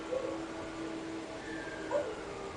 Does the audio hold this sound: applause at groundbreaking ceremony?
no